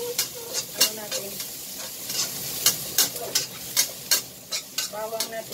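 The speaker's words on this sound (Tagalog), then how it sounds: "Ilagay niyo yung shallot onion at saka yung big onion na inayat-yat kung maliliit." Sliced shallots and big onions fry in a hot pan for vegetable fried rice, with a steady sizzle and frequent scraping stirs close by.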